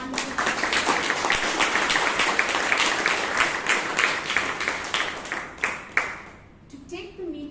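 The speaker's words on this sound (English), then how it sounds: "I'd like to give a huge round of applause to TM Francis Gama" Audience applause for a speaker at a Bangalore Toastmasters meeting: dense, steady clapping from many hands fills most of the stretch, then thins into a few scattered claps before a voice starts up at the end.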